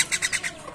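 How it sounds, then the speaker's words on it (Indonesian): A Nias myna gives four quick, loud, harsh squawking calls in an evenly spaced burst, close to the listener and with no other sound around it. "Jalak nias, jalaknya seperti ini."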